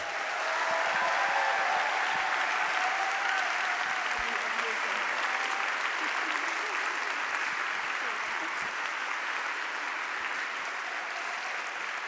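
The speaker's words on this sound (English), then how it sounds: "So give a rock star of applause for Maria Popova" A full room applauds Maria Popova at a CreativeMornings gathering in New York, the clapping thick and sustained, with faint murmurs mixed in.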